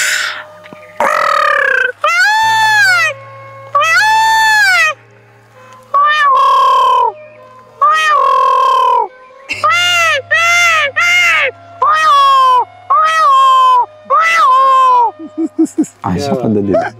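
A man imitates a peacock's call, the loud, high, wailing cries a displaying male gives to attract a female, in repeated nasal bursts separated by short pauses, close and clear against a faint low hum, followed by some brief chirping notes.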